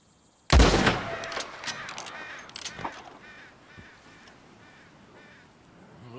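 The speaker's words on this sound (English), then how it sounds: "Go on, give them a warning shot." A single warning gunshot in Red Dead Redemption 2, fired near a flock of sheep at Horseshoe Overlook: one sharp, loud crack followed by a decaying echo, with faint animal calls and ambience after.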